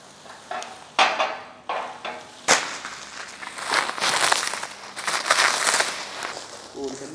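Heavy Rogue Y2 yoke gym equipment being unpacked, with sharp knocks, metallic clanks and rustling packaging in irregular bursts, close and moderately loud, while people talk briefly.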